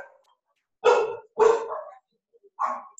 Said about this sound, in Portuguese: os meus cachorros enlouquecem